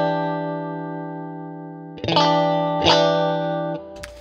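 Electric guitar played clean through a Fender Princeton Reverb amplifier: a sustained chord rings alone, then two strummed chords, fairly loud and close, with a lingering reverb tail.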